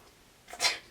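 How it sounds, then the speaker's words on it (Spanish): A single short, close sneeze bursts out of near silence, with a brief intake of breath just before it. No one speaks. "solo fue un estornudo casual."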